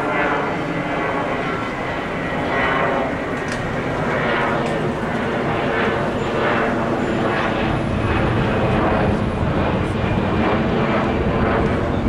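An airplane passes over Lisbon, a steady broad engine roar holding for about twelve seconds with no talk over it.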